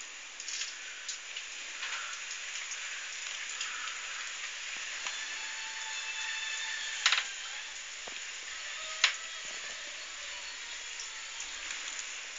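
Steady rain pattering outdoors around a parked Triumph Herald in poor condition, a continuous soft hiss of drops with a few sharper taps and clunks near the middle.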